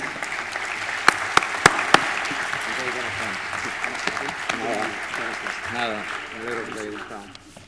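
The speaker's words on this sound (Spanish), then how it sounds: "Por favor, un fuerte aplauso para él." Audience applause fills a conference hall after the closing speaker is introduced at a futurism event: a steady wash of clapping with a few sharp, loud claps near the start, and faint voices murmuring underneath.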